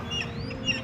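Seagulls and other birds calling outdoors, a couple of short squawking cries rising over a steady bed of ambient noise, moderately distant.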